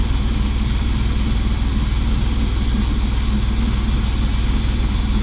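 Engine powering a crop sprayer's PTO, a steady, loud, low droning hum with an even pulsing throb, holding close and constant throughout with no talk.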